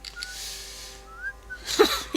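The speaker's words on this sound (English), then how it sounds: "He's whistling." A police officer character in Vampire: The Masquerade – Bloodlines whistles a soft, thin melodic tune nearby, a few held and gliding notes followed by a brief breathy burst.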